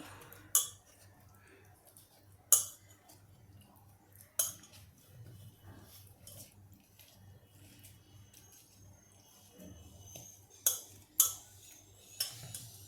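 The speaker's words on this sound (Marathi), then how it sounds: "फक्त हे मटेरियल आपल्याला एकत्र करायचं आहे" Ingredients being combined in a metal cooking pot for a rice dish: sparse, sharp metallic clinks a few seconds apart over a quiet, soft stirring background, close and fairly faint.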